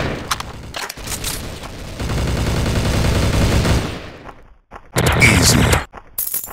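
A TMP submachine gun in a video game fires in long rapid bursts, loud and close, with a short pause between bursts and no speech.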